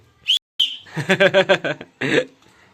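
A whistle used for flying pigeons gives two short, shrill high blasts, followed by a run of rhythmic, close voiced calls and a final burst.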